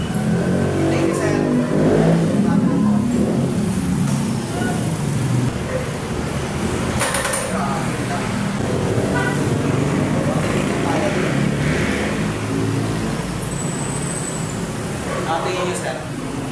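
A Hero Hunk 160 motorcycle, a 2024 Indian-made street bike, idles and runs steadily on a test ride amid roadway traffic noise, with people talking over it throughout.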